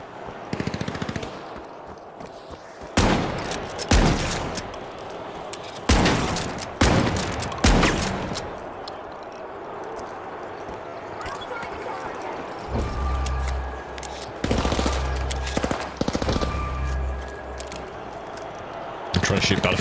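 Gunfire in The Finals, loud automatic bursts coming in repeated clusters with short gaps between them, mixed with game noise and talk.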